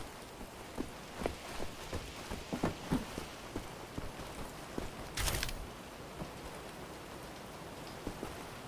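Indoor rain in Wolfenstein falls as a soft patter with scattered distinct drop hits, quiet and uneven, with one brief louder burst of noise midway.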